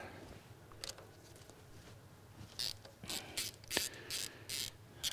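A socket ratchet works on the engine of a Citroen DS21, a few close clicking bursts with a rising run of ratchet strokes toward the end, fairly quiet, with no talking.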